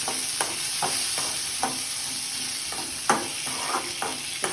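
Chopped tomato fries in a pan for mutton sambar over a steady bright sizzle, with a spoon stirring and tapping at irregular intervals, fairly close and moderately loud, no voices.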